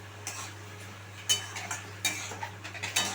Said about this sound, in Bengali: ভালোভাবে আমি এটাকে মিশিয়ে নিচ্ছি